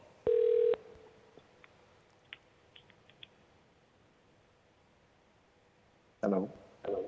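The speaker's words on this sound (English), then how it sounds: "Getting a phone call." Incoming phone call signalled by a short electronic ring tone at the start, a few soft clicks, then two more brief bursts of tone near the end, all against quiet background.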